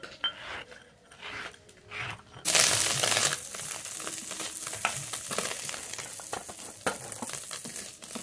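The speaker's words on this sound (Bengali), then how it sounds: "এই মাছগুলো ভাজা হয়ে গেছে" Fish, singi, sizzle and crackle in hot oil in a pan: quiet scraping at first, then a sudden loud, steady frying hiss with stirring noises.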